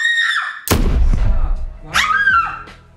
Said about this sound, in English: No, are you going to scream again?